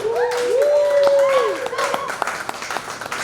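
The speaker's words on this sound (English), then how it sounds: "Give Charlie a round of applause." An audience at a comedy roast in Basic City Brewery, Richmond, Virginia claps with scattered sharp claps, while a rising whoop and talk carry over the top.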